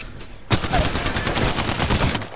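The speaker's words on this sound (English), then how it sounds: "They're shooting at me." Rapid gunfire from a firefight in the battle royale video game Apex Legends bursts in after half a second of quiet, then continues as dense, loud automatic shooting to the end.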